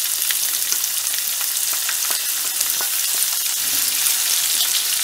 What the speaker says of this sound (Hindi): अब मैं इसमें डालूंगे प्याज